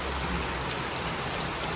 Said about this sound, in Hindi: ये है बारिश